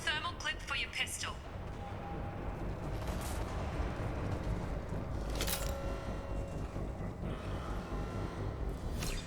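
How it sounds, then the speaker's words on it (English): Canisters blowing up in the video game Mass Effect 2, heavy booming blasts over a dense, rumbling battle mix with gunfire, while a voice talks throughout. "Those canisters by the door are going to blow."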